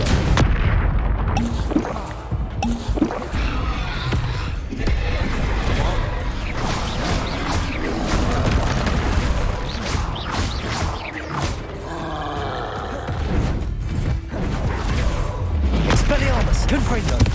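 Rapid spell-casting blasts in the video game Hogwarts Legacy, with a force-push spell among loud booms and crashes that run continuously under a shouting voice calling out spell names.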